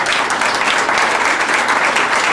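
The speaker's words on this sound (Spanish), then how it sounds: "Un aplauso, por favor." Loud, close audience applause at a kindergarten event, a dense wash of many hands clapping continuously for a couple of seconds.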